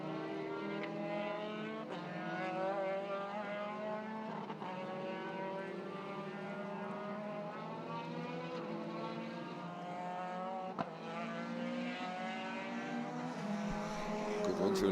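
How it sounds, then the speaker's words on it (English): Two Formula 3 race cars pass at a circuit, their engines building into a loud, sustained rising whine with layered harmonic tones. The roar swells toward the end as they close in, with a sharp click partway through. "Here's the two F3 cars coming back towards us"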